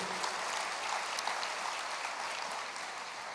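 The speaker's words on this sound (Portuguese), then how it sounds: "Glória a Deus, aplauda ao Senhor." Congregation applauding together in a church during a sermon, a dense, steady wash of clapping from many hands that fills the space evenly and fades slightly toward the end, with no voices over it.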